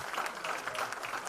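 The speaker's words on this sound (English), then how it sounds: "Real quick round of applause one more time for all 8 of our teams." Brief burst of dense, fairly faint crowd applause for eight competing teams at the Wolf Pack LaunchU finals, steady and continuous with no pauses.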